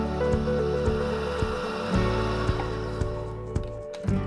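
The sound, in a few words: whisking softened butter and golden caster sugar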